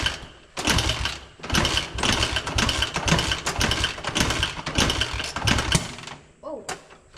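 A 1986 Honda XR80R dirt bike with its choke on is being started: repeated loud, rhythmic bursts of a small engine turning over and sputtering, near and strong, before it briefly drops off at the end.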